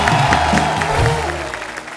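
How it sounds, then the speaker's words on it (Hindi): Studio audience applause on a comedy talk show set, welcoming actor Vicky Kaushal, a dense clatter of clapping from a crowd that holds briefly and then fades out within two seconds. "विक्की पाजी के लिए जोरदार तालियां"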